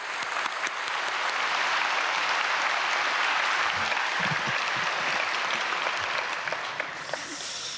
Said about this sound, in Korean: 큰 박수로 목사님 모시겠습니다.